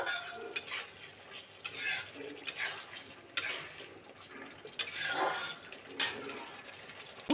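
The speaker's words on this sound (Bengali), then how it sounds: "ঝিঙে থেকে তেল বেরোনো শুরু হয়ে গেছে" Ridge gourd frying in oil in a pan, gentle continuous sizzle broken by repeated clinks and scrapes of a spoon stirring against the metal, close by with no voices.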